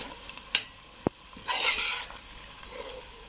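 Spices and mixed masala with dhania and jeera powder frying in a pot, a hiss and sizzle under a spoon that knocks twice against the metal and then scrapes through the mixture, close and without voices.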